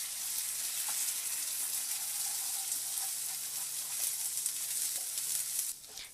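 Beaten egg sizzling and being stirred in hot oil in a pan for chicken fried rice, a steady bright hiss with light scraping of a utensil throughout, close and fairly loud, with no talk.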